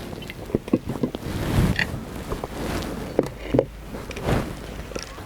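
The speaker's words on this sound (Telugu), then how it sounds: "ఇప్పుడు ఈ రకంగా కలుపుకున్న తర్వాత పొయ్యి మీద గిన్నె పెట్టుకుంటున్నాను" A cooking vessel is set onto a kitchen stove, giving a few close metallic clanks and creaks in two short clusters, with soft scraping between them and no talk.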